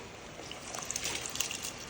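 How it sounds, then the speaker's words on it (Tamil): Water is poured into rice and dal in a pot for cooking: a close, continuous trickling pour with small splashes, quiet and without speech. "2 டம்ளர் தண்ணி"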